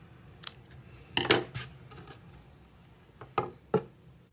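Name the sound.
scissors cutting white yarn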